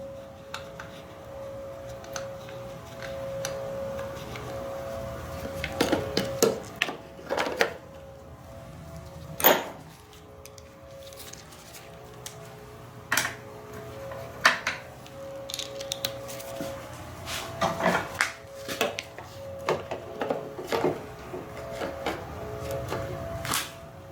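Screws go into the fuel bowl area of a Briggs & Stratton engine during a leak repair: scattered close metallic clicks and ticks with a screwdriver, irregular and sharp, over a faint steady hum.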